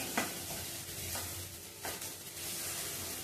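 Masala with roasted coconut stirred and sautéed in a pan, a steady low sizzle broken by a few soft scraping strokes of the spoon, close and even throughout.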